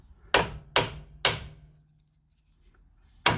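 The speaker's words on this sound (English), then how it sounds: "get a hammer and hit on the edge around here." Four sharp metallic hammer strikes on a Ford Mondeo Mk3 ST220 front wheel hub, three in quick succession then a pause before a fourth, ringing briefly up close.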